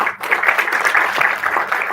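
Audience applauding three young entrepreneurs at an Institution of Engineers event in Nashik; dense, steady clapping from a sizeable indoor crowd, close and loud for the whole stretch with no speech over it.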